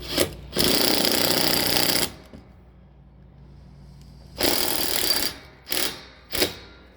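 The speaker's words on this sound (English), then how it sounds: "this time when we put this lag in, we're just going to snug it up so we don't strip it out." A power driver runs a lag screw into a deck rail mounted against stucco. One long close whirring burst is followed by a pause, then a second long run and two short pulses as the screw is snugged up.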